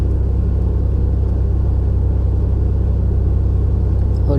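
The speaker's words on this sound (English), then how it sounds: "I'll go ahead and start the vehicle up" A car engine running close by at a steady idle, a heavy even low rumble that holds throughout with no change, ending with a faint brief click.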